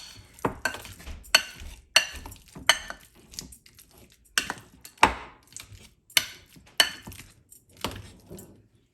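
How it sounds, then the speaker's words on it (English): A potato masher works butter and egg in a bowl, giving a regular series of sharp metallic clacks and thumps against the container, roughly one every half second, close and distinct with quiet gaps between. "I will be using my potato masher again."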